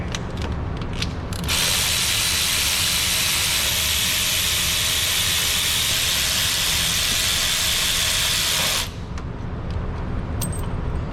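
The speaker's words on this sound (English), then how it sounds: "I'm just going to be using an adapter to bring my 3/8 electric ratchet down to a 1/4 inch and have my 8mm deep socket on it" A 3/8 electric ratchet fitted with an adapter down to 1/4 inch and an 8mm deep socket removes bolts during 5.7 HEMI cylinder head removal, giving a loud, steady, hissing whir that runs continuously for about seven seconds before cutting off.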